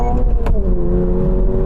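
A Toyota GR86 accelerates hard on a wet road during a 0-60 mph run. The engine drone is loud and close, its pitch climbing steadily after a brief break, with no talk over it.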